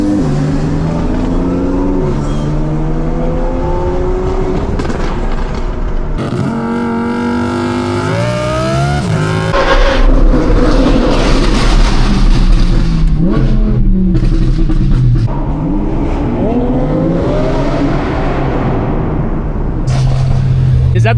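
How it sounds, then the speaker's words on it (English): An Audi R8 V10 fitted with an aftermarket exhaust revs hard and accelerates close by, its loud, rising and falling engine wail continuing throughout, with excited voices heard now and then. "Is that the best sounding V10 you've ever heard?"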